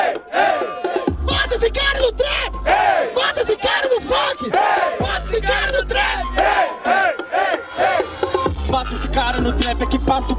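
A loud crowd cheers and shouts at a Brazilian rap battle, a sustained roar of many voices with yells and whistles running almost the whole time.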